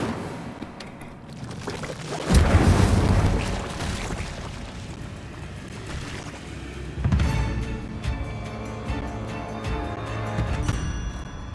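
The fire spell Incendio is cast in the video game Hogwarts Legacy, giving a loud whooshing boom that swells and fades, then a second, weaker burst of flame later amid crackling game sounds.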